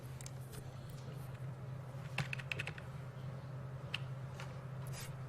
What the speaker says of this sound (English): good chance to show my touch typing skills